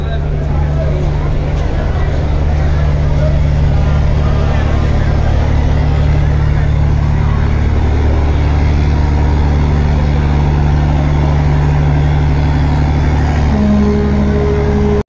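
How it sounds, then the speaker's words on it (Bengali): A large passenger river launch, Adventure 9, shifts into reverse, its deep steady diesel engine drone continuous and loud throughout with a low hum, alongside other launches backing out at a crowded river terminal after the Eid holidays. "এই যে অ্যাডভেঞ্চার 9 এই সেট থেকে ব্যাক গিয়ারে যাচ্ছে"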